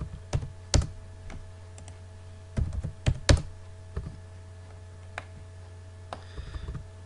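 Scattered keystrokes clack on a computer keyboard while an AutoCAD command is entered. The clicks come in short irregular bursts over a quiet background hum.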